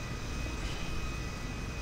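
Aircraft engine in a video game, a steady broadband roar with a constant drone that holds at a low, even level throughout.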